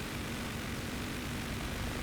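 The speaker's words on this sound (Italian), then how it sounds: "l'aereo, raga, l'aereo" An airplane in a video game drones steadily and faintly throughout, a continuous even engine hum with no breaks.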